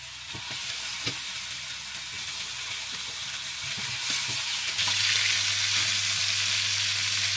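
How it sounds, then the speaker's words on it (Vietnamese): Salted, parboiled chicken sizzles and crackles in hot oil in a pan over high heat with garlic, chili and lemongrass, a steady close frying noise that grows louder and denser partway through. "Bây giờ mình sẽ đem chiên gà."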